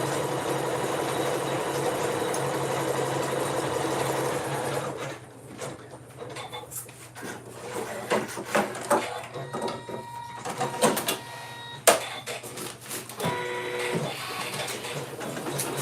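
Two embroidery sewing machines run together: a steady mechanical hum for several seconds, then irregular clicking, tapping and rattling bursts over a constant low drone.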